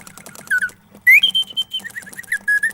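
A thin, high mechanical whistle sounds in short bursts and one longer held tone, its pitch sliding slightly, with faint rattling clicks between blasts.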